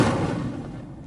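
The Incendio fire spell cast in Hogwarts Legacy, a single loud whooshing burst of flame that starts at full strength and fades steadily over about a second, heard alone.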